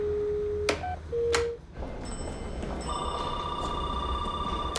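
A few quick touch-tone beeps of a number being dialed, followed by a steady ringing tone on the line, heard through a handset.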